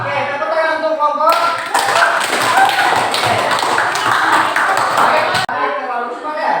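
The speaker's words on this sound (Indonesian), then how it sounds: "Oke, tepuk tangan untuk kelompok." A classroom group applauds with a dense burst of clapping that lasts several seconds and then stops abruptly, with voices talking before and after.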